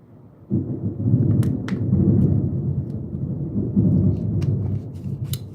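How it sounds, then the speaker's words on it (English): Steady rain pours outside with deep rolling thunder rumbling throughout, loud and continuous, with a few sharp drip or crackle sounds on top and no talking. "Y'all hear that rain? And the thunder?"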